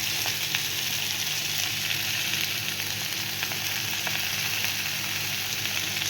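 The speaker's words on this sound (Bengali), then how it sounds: "আমি যে সবজিগুলো কেটে রেখেছিলাম সব সবজিগুলো দিয়ে একটু ভেজে নেব।" Chopped vegetables frying with turmeric in a pan for Bengali shukto: a steady, dense sizzle with faint crackles and pops, close and continuous with no talking.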